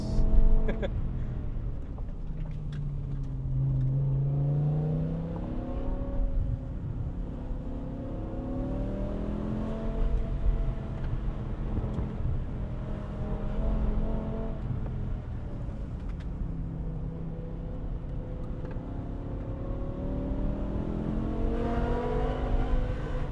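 A loud, high-pitched V10 car engine revs continuously, its pitch climbing and falling as it accelerates and shifts, close and sustained throughout.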